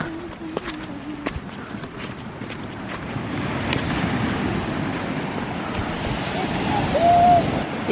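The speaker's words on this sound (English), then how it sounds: "We're down at the ocean." Ocean waves wash onto the shore in a steady, soft rumbling surge, swelling slightly louder toward the end, with wind buffeting the microphone and brief chirping sounds early on.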